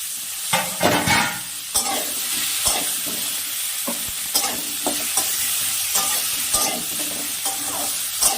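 Chopped tomato and potatoes sizzle in hot oil for a chital fish curry, a steady loud frying hiss broken by repeated scraping stirs of the spatula.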